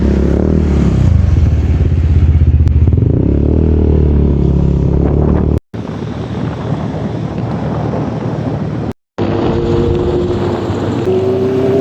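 A motorcycle ride in Tanay, Rizal: a loud, steady engine drone mixed with heavy wind rush runs throughout, broken by two brief dropouts.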